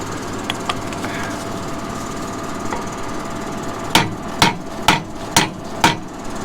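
After quiet background noise, five sharp hammer blows ring out in a steady rhythm, close and loud, while loading a Lemken Karat cultivator.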